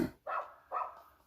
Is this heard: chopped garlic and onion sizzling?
no